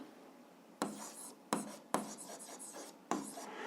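Pen strokes scratch across paper while an algebra exercise is worked out, coming in four short bursts of writing close by, fairly quiet.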